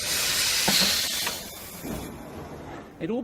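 Steam hissing loudly and continuously, tied to early industrial steam power, then fading as a voice begins speaking toward the end.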